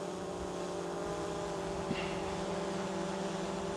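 A steady buzzing drone rotor hums continuously in windy conditions, recorded with no microphone noise reduction, mixed with rushing wind noise and a brief small knock midway.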